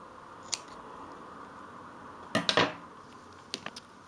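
Scissors snip knitting yarn at the end of a jacquard baby bonnet, one light click and then a crisp double cut with a few small metallic ticks after, nearby in a quiet room.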